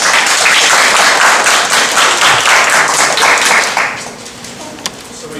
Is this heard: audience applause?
yes